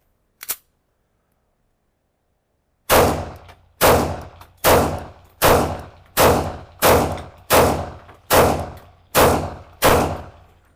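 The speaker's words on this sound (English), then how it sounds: "let me reload the magazine and fire a few more shots" Arsenal Strike One pistol shots, an Italian-Russian handgun, fired outdoors: one sharp report, a pause of about two seconds, then ten loud shots in a steady rhythm roughly one per second.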